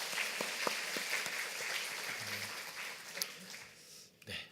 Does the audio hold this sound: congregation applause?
yes